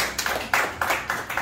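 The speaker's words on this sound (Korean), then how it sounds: "원하시면 박수 한번 쳐주십시오" Hand clapping at a school election event: a handful of distinct, evenly spaced claps, fairly quiet and close, with no talk over them.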